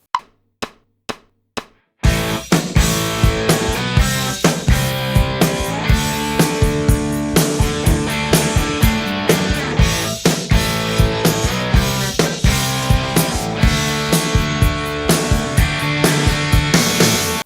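A guitar plays the Sweet Child O' Mine chorus riffs over a full band backing track, loud and steady after a few sharp count-in clicks at the start.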